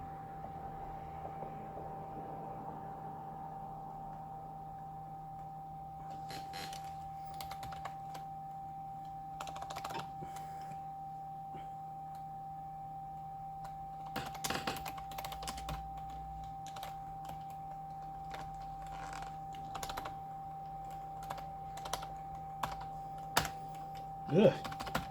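Fingers type on a mushy keyboard of an HP Pavilion p6235uk desktop, scattered soft keystrokes and short bursts over a steady electrical hum, growing busier and louder toward the end.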